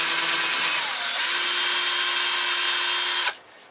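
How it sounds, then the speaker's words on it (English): A power drill pre-drills holes in scrap wood, a loud steady high whine with a constant pitch that runs for about three seconds and then cuts off abruptly. "I pre-drill these holes to reduce the chance of splitting."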